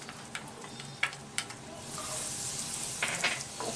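Chopped onion sizzles in melted fat with cumin in a pan for dal makhani, with a dense crackling hiss and a few sharp utensil clicks near the start.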